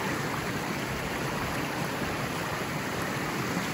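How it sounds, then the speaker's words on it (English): Floodwater stream rushing after a heavy rain bomb, a loud, steady broadband roar of flowing water running continuously without a break. "the amount of water still coming through is just amazing"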